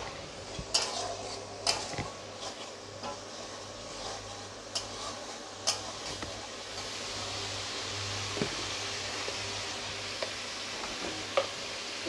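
Spoon knocking and scraping against a pan as rui fish posto is stirred with a little water, intermittent clinks and taps over a low steady hiss from the stove, close and fairly quiet.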